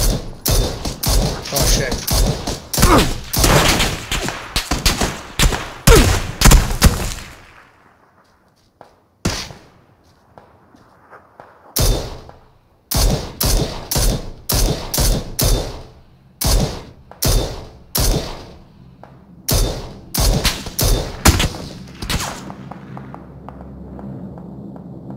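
Rapid bursts of gunfire in a shooting video game, loud and close, with a quiet gap in the middle and more volleys after it, while a player briefly exclaims.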